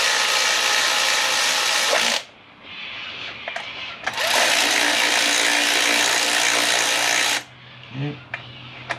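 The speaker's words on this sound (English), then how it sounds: "let's get these bolts tightened" Bolts on a Subaru Forester intake being run down with a power tool, heard as two loud whirring bursts of a few seconds each, separated by quieter clicks and handling noise.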